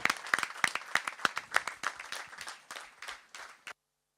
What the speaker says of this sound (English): Ladies and gentlemen, a huge round of applause for our continuity drill squad.